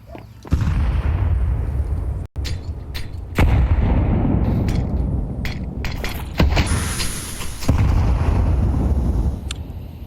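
Gunfire and blasts from a Counter-Strike match, with dense sharp reports and booming bursts layered over a continuous loud roar, briefly cutting out once before resuming heavily.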